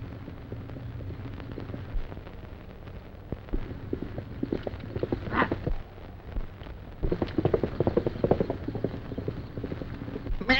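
Hooves clip-clop steadily over a low rumbling background, becoming busier and more insistent in the second half, at moderate distance.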